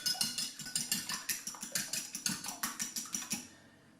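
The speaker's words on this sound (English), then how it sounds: "Got a little whisk, just give it a whisk up." Small whisk beating two cracked eggs in a bowl for a Christmas cake, a fast steady run of bright clicking strokes that ends abruptly, close and alone.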